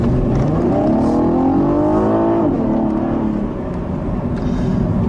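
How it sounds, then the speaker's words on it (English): A 2015 Cadillac ATS Coupe's V6 engine growls continuously up close, its pitch rising as it revs, then dropping and settling into a steady rumble. "the noise that this V6 makes is an interesting one"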